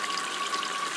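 Water pours steadily over a Rapala Interface Ice Force fishing suit, a soft, even hiss of running water with no voices.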